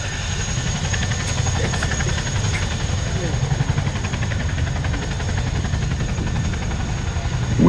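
A steady, heavy rotor and engine drone from a helicopter idling nearby at the Royal International Air Tattoo air show while a quad bike is unloaded, holding constant throughout with a low rumbling texture.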